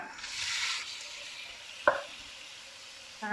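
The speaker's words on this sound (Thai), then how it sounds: "นำกุ้งลงไปลวนก่อนนะคะ" Shrimp hit a hot pan for stir-frying rice, with a short burst of hissing sizzle followed by a sharp utensil clink and quieter frying, then another clatter at the end.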